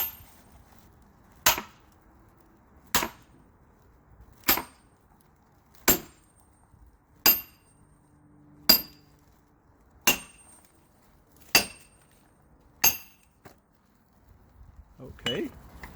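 A hammer strikes repeatedly to split material in a shop, about ten sharp, evenly spaced whacks roughly every second and a half, each loud and close with a short ring, followed by a brief rustle at the end.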